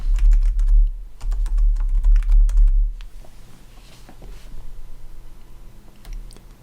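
Rapid, close computer keyboard typing clatters for about three seconds, then thins to fainter, scattered key clicks.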